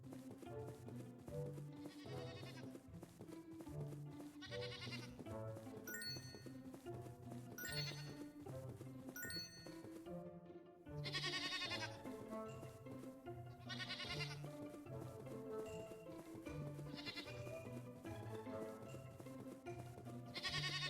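In the video game Synaxarion, a goat bleats again and again in short wavering calls over steady background music, moderately loud and close throughout.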